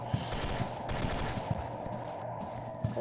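Gunfire in the shooter game SKILL Special Forces 2, a dense rapid burst of automatic fire with sharp periodic shot peaks over a constant rumble, no talking.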